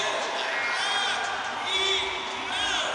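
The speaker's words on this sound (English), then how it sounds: "Crowd's blown away. They're going mental in here." A crowd at a skateboarding contest in São Paulo whoops and cheers in waves of shouts and whistles, with a commentator's voice running over the noise.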